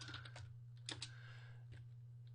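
Fingers tap on a computer keyboard in quiet, scattered bursts of soft clicks. The taps sit over a low, constant electrical hum, and no voices are heard.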